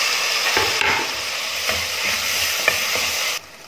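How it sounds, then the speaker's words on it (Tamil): Tomatoes sauté in hot oil as they are stirred, making a loud, steady frying hiss with occasional spoon scrapes before it cuts off near the end. "தக்காளி நல்லா வதக்கியாச்சு"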